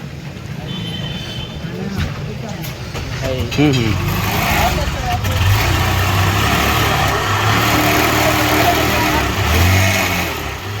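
A motorcycle engine idles and warms up, its steady low rumble running throughout with a few rises in revs, while people talk nearby over it.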